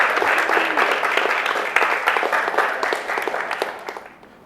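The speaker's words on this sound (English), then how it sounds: "Let's have a round of applause." A crowd at a reunion special applauds, with the many claps loud and dense at first. The applause thins out and fades to near silence by the end.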